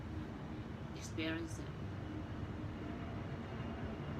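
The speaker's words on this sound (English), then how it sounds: "And here is another airplane coming." An airplane passes a high-rise in Brickell, Miami, heard from around the 16th floor as a steady, distant broadband roar with a brief higher whine, and a voice briefly speaks.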